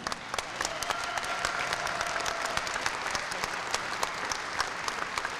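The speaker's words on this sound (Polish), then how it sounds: "To może ogromne brawa dla trenerów tych par." Sustained applause from an audience at a Polish dance championship, honoring the couples' trainers; steady dense clapping fills the hall with scattered louder claps, no voices over it.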